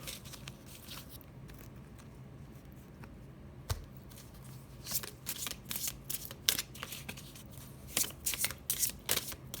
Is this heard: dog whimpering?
no